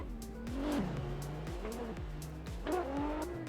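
A drift car brakes hard into the first outside zone during a 2020 DCGP Round 2 qualifying run, tires squealing and engine revving up and down repeatedly, loud and close, with no talk.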